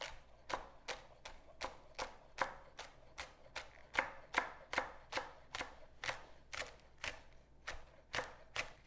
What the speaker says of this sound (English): Now we're gonna cut up our cilantro and our scallions and prepare our bowls